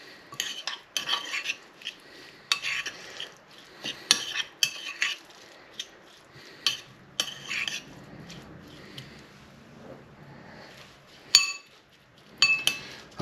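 Mackerel fillets being stirred in a pan with cutlery, giving repeated sharp metallic clinks and scrapes in irregular bursts, close up with quieter gaps between and no talking.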